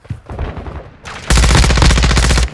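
Rapid automatic gunfire in Call of Duty Modern Warfare 2 multiplayer, a loud, close sustained burst of shots that starts abruptly after quieter distant rattling and runs for over a second before cutting off.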